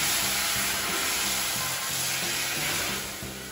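A frying pan sizzles loudly and steadily during pasta cooking, a continuous close hiss of frying with no speech.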